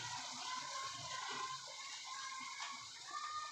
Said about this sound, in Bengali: এখন আমি এর মধ্যে জল দিয়ে দেবো